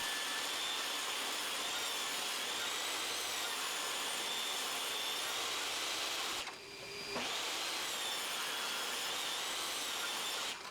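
A table saw rips pallet wood planks into narrow strips, a loud continuous whining drone with a brief dip partway through before the blade noise resumes at full strength.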